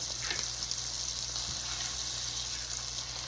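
Butter with a splash of oil sizzles steadily in a pan for garlic butter noodles, a continuous close hiss with a faint bubbling texture and no talking.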